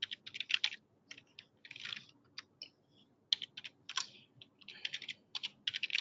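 Fingers type on a computer keyboard in quick, irregular bursts of clicks, with short pauses between words, close and fairly quiet, with no one talking.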